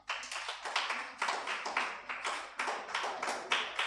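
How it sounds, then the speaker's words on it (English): Applause from an audience at a press and public engagement event, a steady run of close, quiet, evenly paced claps from a small group. "Let's clap for him."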